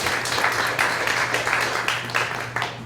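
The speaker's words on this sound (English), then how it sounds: "Please just give them a round of applause." Applause rises from a seated audience at a research talk event: many people clap together in a continuous, fairly loud patter that holds steady before tapering slightly at the very end.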